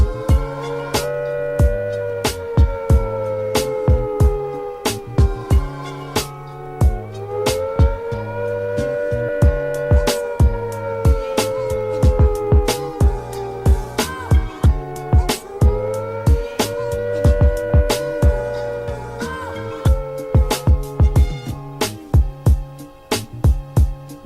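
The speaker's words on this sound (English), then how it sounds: "If an attack is expected, the sirens will sound a rising and falling note like this." Civil defence attack warning siren wails with a rising and falling note in slow repeated cycles, heard under a steady rhythmic electronic music track with punchy drums.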